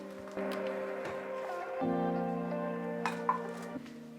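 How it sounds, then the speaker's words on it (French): Grated carrots and chopped bacon are stirred into keto muffin batter in a bowl, with soft scraping and occasional light clinks of utensil against the dish under a steady background hum. "Je vais bien intégrer ça à ma pâte."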